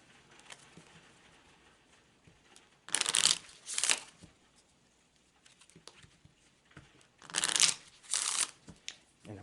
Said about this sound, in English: shuffle the remainder of the deck